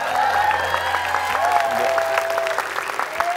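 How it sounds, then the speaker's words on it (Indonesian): A studio audience at a televised Indonesian dating show applauds steadily, a dense wash of clapping with cheering and music underneath throughout. "Boleh kita berikan tepuk tangan untuk single man kita."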